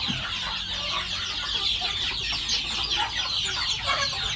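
Village chickens in a Thai backyard farming project cluck busily while eating mixed feed, a dense continuous chatter of many birds close by with no talk.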